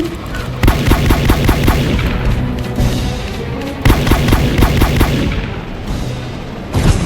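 Gunfire in the Roblox train game Dead Rails, with two loud bursts of rapid shots, each lasting a few seconds and separated by a short pause, close and dominant throughout.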